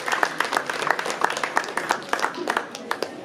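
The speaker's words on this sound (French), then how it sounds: "Je vous demande de l'applaudir." Scattered hand clapping from a small audience at a comic-book festival stage, individual claps distinct and uneven rather than a full roar, continuing for a few seconds under light background chatter.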